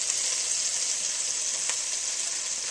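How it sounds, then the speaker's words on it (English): Bits of roast turkey fry in a pan for gravy, giving a steady, close, hissing sizzle throughout with no talking. "what's happening now is we're actually frying those bits in the pan"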